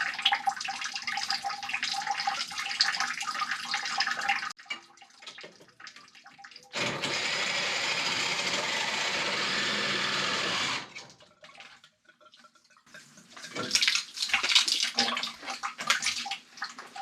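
Water left standing in a pipe for about a decade drains out during a water heater relocation, a rushing splash that comes in bursts with quieter gaps and a steady loud gush in the middle.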